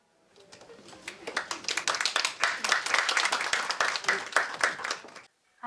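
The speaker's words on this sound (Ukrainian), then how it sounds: "Наша наступна спікерка зустрічаєте оплесками Ольга Правільєва" Audience at a forum conference clapping to welcome the next speaker, a crisp burst of many hands that builds, holds for several seconds and then dies away, ending in a brief pause.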